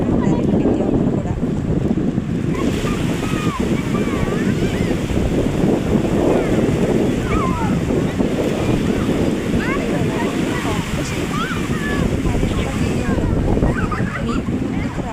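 Ocean waves on Kakinada beach with wind buffeting the microphone, a continuous loud wash of surf, with voices of people playing at the water's edge mixed faintly into the roar.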